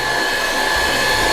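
Electric mixer running at high speed through cupcake batter, a steady, loud, close whirring whine held for a brief moment without pause.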